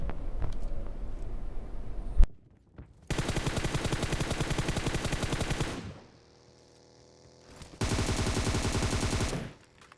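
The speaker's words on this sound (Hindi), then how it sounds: "भाई इतने में एक गन साउंड आती है" Automatic gunfire in the BGMI battle royale game, loud rapid bursts of shots in two long volleys separated by quieter gaps with vehicle engine hum.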